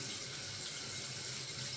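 Water pours steadily from a carbon filter tap, a close, continuous rushing splash that stays even throughout with no voices.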